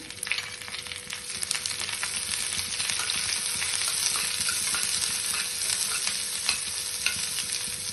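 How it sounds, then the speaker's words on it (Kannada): Onions sizzle and fry with curry leaves in a hot pan for a chicken curry, a steady loud crackling hiss throughout with occasional stirring scrapes, no voices. "ಕರಿಬೇವು ಸೊಪ್ಪು ಪಟ ಅಂತ ಆದಮೇಲೆ ಈರುಳ್ಳಿನ ಹಸಿಸ್ಕೊಂಡಿರೋ ಈರುಳ್ಳಿನ ಹಾಕ್ತಾ ಇದ್ದೀನಿ"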